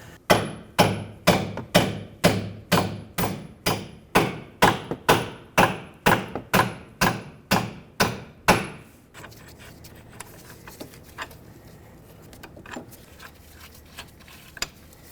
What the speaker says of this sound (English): at this point you need to punch the bolts out